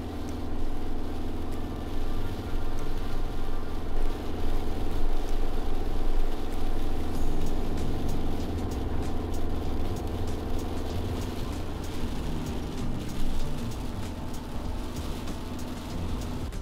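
A Suzuki Jimny engine on big chunky tyres labours up a bank at around 2,500 rpm, a sustained droning strain with steady broadband rushing on top, no talk.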